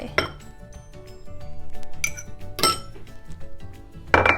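Beaten egg and coconut cream being whisked together in a bowl for Isaan grilled sticky rice, heard as close clinks and scrapes of utensil against the bowl, with several sharper clatters standing out over a steady background.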